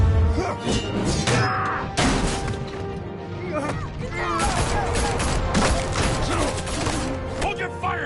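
Rapid bursts of gunfire in the Batman: The Telltale Series video game, loud overlapping shots and crashes mixed with game music and effects, a dense chaotic volley continuing through the scene.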